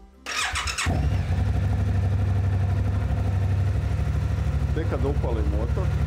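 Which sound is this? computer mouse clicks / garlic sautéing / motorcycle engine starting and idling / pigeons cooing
motorcycle engine starting and idling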